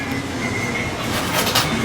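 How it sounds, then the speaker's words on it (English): A little coin-op train runs around a track in a museum coffee shop, a steady rolling rumble with a metallic hum and faint clatter throughout. "We have a little train going around"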